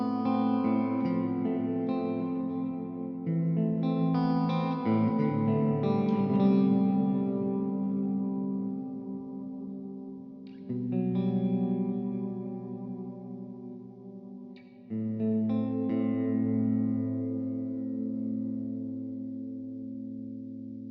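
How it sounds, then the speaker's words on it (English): Ambient electric guitar tone through a high-gain amp, washed in chorus, delay and reverb, with sustained chords that ring and swell in three long phrases, loud and alone with no talking. "There's a nice ambient. This has the chorus delays and reverbs on it."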